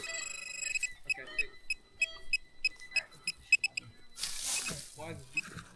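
A metal detector sweeping ground at an old logging camp gives repeated short, bright electronic beeps in an uneven rhythm, with rustling and a voice speaking.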